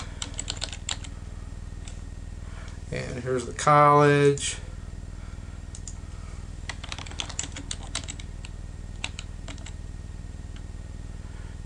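Soft computer keyboard typing clicks through the background while filling in a social media profile, with a short burst of speech partway through.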